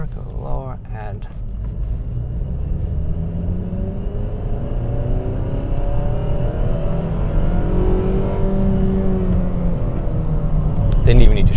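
A 2021 Nissan Sentra with a naturally aspirated 2-liter inline-four and 6-speed manual accelerates hard in first gear, the engine drone rising steadily in pitch and loudness from inside the cabin, with someone speaking briefly at the start.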